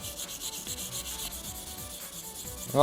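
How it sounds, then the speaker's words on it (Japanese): 1000-grit sandpaper rubbing across a worn Lexus car emblem, a steady close scratchy back-and-forth rasp in regular strokes, with no voices. "まず1000番横に磨いていきます。"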